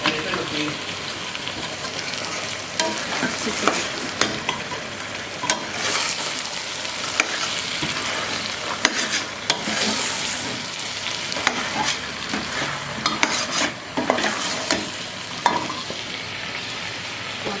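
Lettuce is stirred into a simmering broccoli and butter bean stew, with a steady sizzle and bubbling plus scraping stirs of a spoon through the soft vegetables, clear and continuous.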